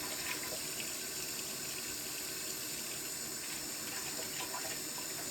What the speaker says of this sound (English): I'm going to rinse them off